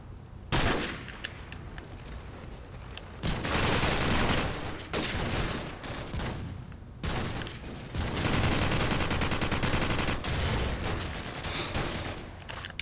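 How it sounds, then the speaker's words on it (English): Rapid bursts of Dragunov sniper rifle fire in a Call of Duty 4 multiplayer match on PS3, loud overlapping volleys of gunshots repeating across the whole stretch with brief gaps between them. "This guy's just running around hip firing with a Dragunov."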